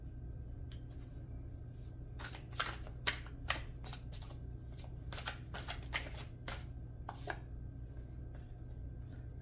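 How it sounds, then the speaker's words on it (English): Tarot cards shuffled and drawn at close range during a reading, giving a run of crisp riffling flutters and soft slaps that come in uneven bursts over a steady low room hum. "Let's draw some more cards."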